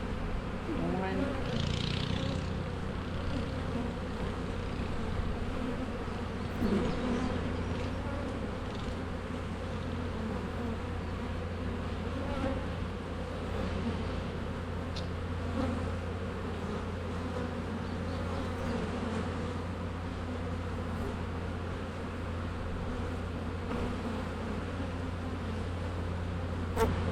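Honey bees swarm and buzz around an open beehive during a frame inspection, a dense continuous drone holding steady and close throughout, with occasional louder passes near the listener.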